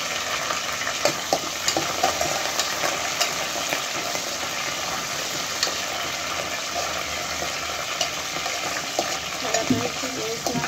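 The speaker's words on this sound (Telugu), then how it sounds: "కరివేపాకు వేసినాక కొంచెం ఫ్రై అయినాక" Curry leaves crackling in hot oil for a fish masala curry: a dense, continuous sizzle with sharp pops and occasional spatula scrapes, close and fairly loud.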